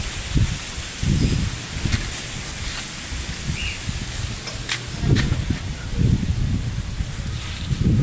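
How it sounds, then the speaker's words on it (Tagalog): Strong wind gusts rush through mango tree leaves in a steady rustling wash, swelling into louder bursts every few seconds. "Lakas pa rin yung hangin, yung mangga,"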